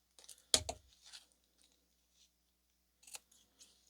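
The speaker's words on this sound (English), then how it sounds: "trim those corners off just to reduce that bulk" Scissors snip paper corners in a few sharp, quiet cuts, one crisp close snip followed by lighter trimming sounds, then a pause and another brief cut, in a quiet room.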